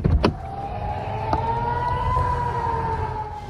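A steady electronic siren tone sustains after a brief sharp knock at the start, with low rumble underneath.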